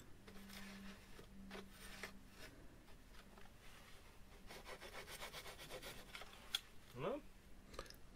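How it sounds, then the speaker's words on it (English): A thin Tamiya pull saw, its teeth set backwards, cuts with repeated rasping strokes. The strokes are fairly quiet and close, and a brief squeak comes near the end. "It's a pull saw, which means that the teeth are backwards and it's very thin."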